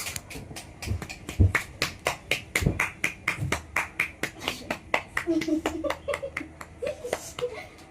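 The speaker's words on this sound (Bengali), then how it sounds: "মঞ্চের সবাই করতালি দিন প্লিজ" An audience at a Diwali stage program claps in a steady, even rhythm of sharp hand claps for about eight seconds, with some laughter and voices mixed in.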